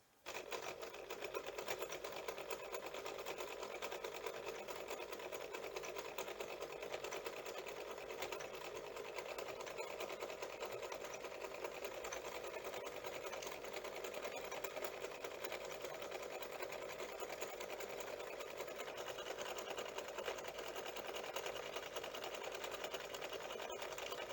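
A regular domestic sewing machine runs steadily and fairly loud while stitching a blind hem in fabric, a continuous even whir with no pauses and no talking.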